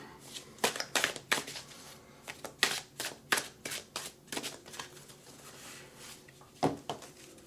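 A deck of tarot cards is shuffled by hand in a run of quick, dry, papery bursts and slaps, loud and close, pausing briefly before a final few shuffles.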